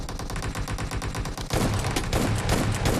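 Rapid bursts of gunfire in a PUBG team deathmatch round with a double-barrel shotgun, loud and dense, one burst after another with a fuller, heavier volley in the second half.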